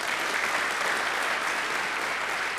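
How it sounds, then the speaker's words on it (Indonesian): A church congregation claps together in steady, dense applause that stays loud and even from start to finish, with no voices standing out. "saudara tepuk tangan ya"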